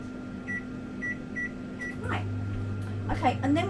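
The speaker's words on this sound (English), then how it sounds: "I'm going to just start by melting the butter in the microwave" A microwave oven runs while melting butter, giving a steady electrical hum with a few short, evenly spaced beeps, followed by a voice talking over the drone.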